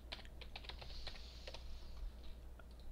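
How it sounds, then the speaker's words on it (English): Quick, light keystrokes tap on a computer keyboard in an uneven burst of typing that slows near the end, close and quiet with no talk. "We're just going to type in find."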